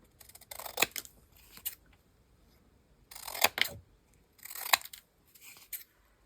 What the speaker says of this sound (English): And then I'm going to just cut these out.